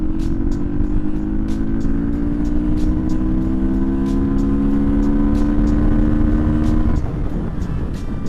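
A Suzuki DRZ400 supermoto pulls hard in fourth gear, its loud engine note climbing steadily and alone for several seconds before easing off near the end.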